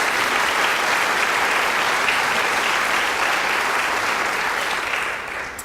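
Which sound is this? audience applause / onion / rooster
audience applause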